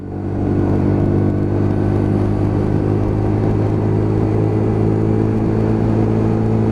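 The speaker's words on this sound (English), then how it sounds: "So just pulling through the gears, keeping the revs low as it is a new bike" Lexmoto LXR 125cc Euro 5 motorcycle, a new bike with a six-speed box, pulling through the gears at low revs: a loud, steady engine drone with strong low harmonics and a constant rumble, close and continuous.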